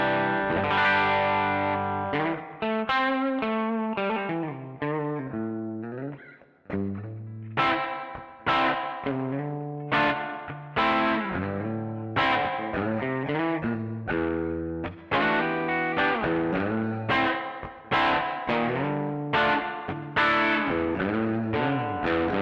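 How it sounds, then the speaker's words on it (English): Picked electric guitar notes and short phrases run through the spring mode of a TC Electronic Arena reverb pedal, each note trailing a splashy, dripping reverb tail in a steady flowing line with no talking. "Lovely spring reverb"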